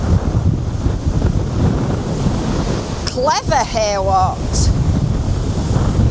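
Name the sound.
sea waves breaking against a sea wall in strong wind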